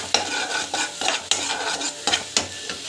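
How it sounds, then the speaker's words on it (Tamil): Raw banana pieces with salt are sautéed in a pan, with a soft sizzle and a series of sharp scraping stirs at irregular intervals, close and fairly loud. "சால்ட் ஆட் பண்ணி இதை வந்து வதக்கிட்டுக்கோங்க."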